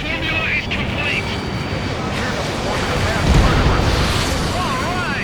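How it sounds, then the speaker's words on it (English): Heavy rumbling blast noise from a rail cannon being destroyed in the Ace Combat 7 flight game, a dense continuous roar with jet engine and wind-like wash, swelling louder midway, with radio voices talking over it. "Confirming explosions. The rail cannon's been destroyed."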